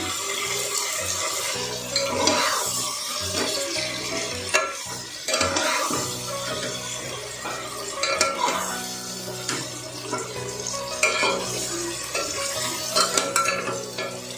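Marinated chicken with a splash of water cooks in a pan for a Kolkata-style chicken biryani, with continuous sizzling and frequent loud stirring and scraping of a spoon against the pan, close and busy, with no talking.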